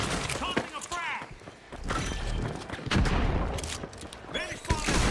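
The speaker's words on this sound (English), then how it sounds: "Tossing a frag." A frag grenade is thrown and explodes in the game The Finals, with heavy blasts and gunfire bursting through a busy firefight while a voice talks over the noise.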